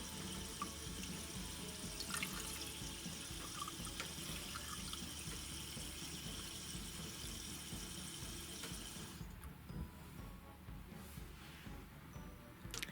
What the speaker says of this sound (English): I'm gonna turn the water on just a little bit and then fill up my aquarium.